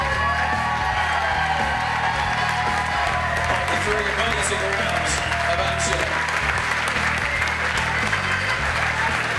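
Loud, steady crowd applause with scattered cheers and whoops fills the hall for two Muay Boran fighters after their bout, while an announcer's amplified voice talks over the clapping throughout.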